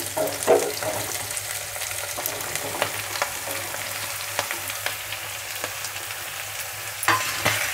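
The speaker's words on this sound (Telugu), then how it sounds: "ఉల్లిపాయలు, పచ్చిమిరపకాయలు వేగాయి కదా, ఇప్పుడు అందులో వేసేద్దాము." Bottle gourd pieces dropped into a pan of onions and green chillies frying in oil, giving a continuous close sizzle with scraping stir strokes and occasional sharper clicks of a spoon against the pan, and no voices.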